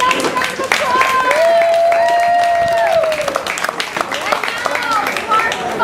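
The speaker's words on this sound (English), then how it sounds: "Give them a nice round of applause." Audience applause after a school performance of a Shakespeare play, steady dense clapping with cheering and whoops throughout, a raised voice rising above the crowd partway through.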